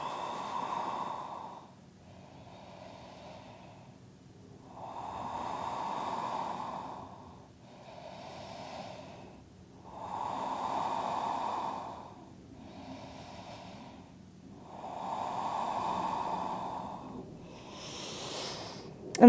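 Slow, steady breaths held in a yoga forward fold during a second-trimester session, five long inhale-exhale cycles rising and falling in a calm rhythm, close and soft, with a brief rustle at the end.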